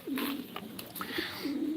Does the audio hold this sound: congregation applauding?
no